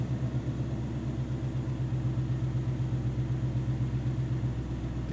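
A car engine idles steadily after starting, a close, even low rumble with a regular pulsing throb that holds unchanged throughout, with no voices.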